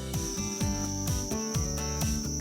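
Crickets chirp at an insect farm, with a dense, steady chorus of rapid, pulsing trills and a continuous high, shrill tone running beneath them.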